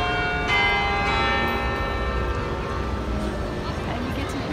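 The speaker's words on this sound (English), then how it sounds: "And you get to hear the bells." Church bells ring out with a loud, resonant strike near the start and long shimmering tones that slowly fade, with voices murmuring faintly in the background.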